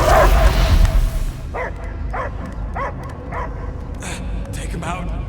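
A dog in the video game Marvel's Guardians of the Galaxy gives several short yips and barks in a rhythmic series after a loud opening passage, heard mid-distance over low game ambience.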